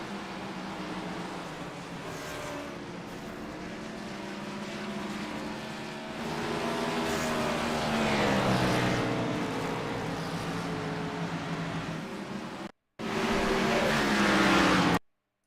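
Race cars at Darlington Raceway thunder past in a continuous loud engine roar that swells and shifts pitch as the pack passes, with a brief cut-out near the end before the roar resumes.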